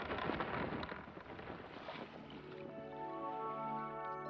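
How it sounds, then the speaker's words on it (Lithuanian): Wind gusts around a small boat out at sea in a cartoon scene, making a soft airy rush with low buffeting, while a sustained tonal musical drone rises underneath toward the end. "pakilo vėjas ir srovė pasikeitė"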